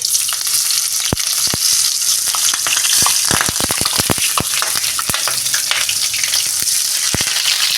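Onion and masala fry in hot oil for an egg rice dish, a loud, steady sizzle broken by sharp clicks and scrapes as the mixture is stirred, with no talking.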